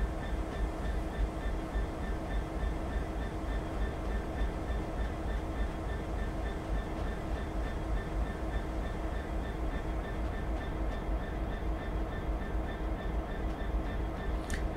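A simulated train in Train Sim 2019 on the Trent Valley route rolls into a siding, a loud, steady, continuous rail rumble with faint tonal whine, heard alone without talk.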